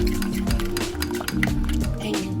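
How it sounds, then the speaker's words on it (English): A utensil stirs melted butter and garlic in a bowl, with close clinking and scraping against the dish over a soft, wet swirl, steady and continuous. "we're just going to give it a stir"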